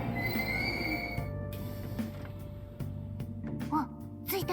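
Train rolling along in Persona 5 Strikers, a steady low rumble with tonal wheel hum and occasional squeals and clanks, fairly loud and continuous with faint voices underneath.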